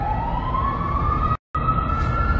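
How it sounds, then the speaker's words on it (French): An ambulance siren sounds loud and steady as a continuous rising tone over traffic rumble, cut by a brief dropout before it resumes. "Attendez, il y a une ambulance qui arrive avec les..."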